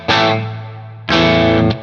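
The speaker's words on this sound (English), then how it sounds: "if you wanted to try how the power amp distortion sounds, we can do this." Two heavily distorted chords ring out from a Uraltone Jr kit guitar amp pushed into power-amp distortion, each struck hard and left to sustain and decay briefly.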